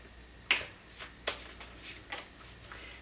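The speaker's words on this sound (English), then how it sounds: "These cards, every time I shuffle them, they just want to fly." Tarot cards being shuffled by hand make a few crisp, quiet flicks and riffles, heard as a sharp snap followed by softer papery bursts.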